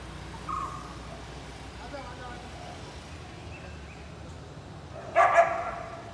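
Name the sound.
dog barking while telling off another dog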